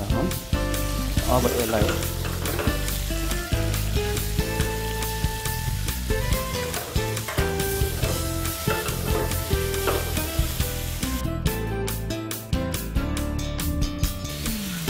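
Chicken frying in a pan with a loud, continuous sizzle, broken by scraping and clattering as it is stirred, while a voice speaks briefly.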